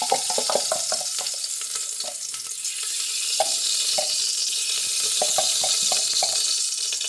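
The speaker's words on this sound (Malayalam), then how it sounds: "ഗ്യാസിലൊരു കുക്കർ വെച്ച് കൊടുത്തിട്ടുണ്ട്. അതിലേക്ക് നെയ്യ് ഒഴിച്ച് കൊടുക്കുകയാണ്." Ghee heats and sizzles in a pressure cooker on a gas stove, giving a steady close hiss broken by frequent small pops and crackles throughout, with no voices.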